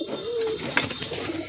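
Domestic pigeons being fed coo close by, a soft low throaty call with a brief flutter-like burst in the middle, and no voices.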